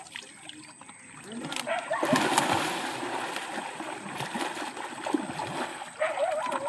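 Water drains and trickles out of an uncovered container at a pond, a steady close splashing flow with louder surges partway through and again near the end.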